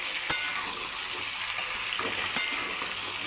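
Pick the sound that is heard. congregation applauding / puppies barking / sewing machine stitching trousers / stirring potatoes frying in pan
stirring potatoes frying in pan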